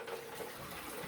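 Water drains from an orchid pot at a sink, a faint, continuous trickle and splash with no talking.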